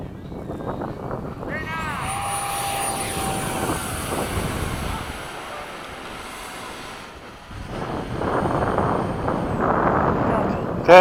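An FMS 70mm F/A-18 hot rod RC jet does a touch and go at a flying field: a steady ducted-fan whine passes and shifts pitch, then swells louder toward the end, with wind noise throughout.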